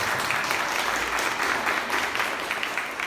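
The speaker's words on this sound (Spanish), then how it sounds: "recibamos con otro aplauso a Jaime y que nos presente su trabajo" An audience breaks into steady, dense applause, welcoming a speaker who draws to the stage. The clapping holds an even level throughout with no break.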